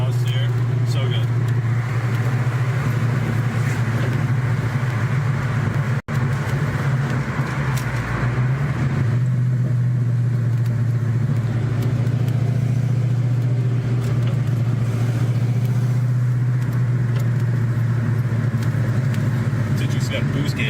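A car's exhaust note rumbles as a steady low drone at close range, with a brief dip near six seconds, while people talk over it throughout.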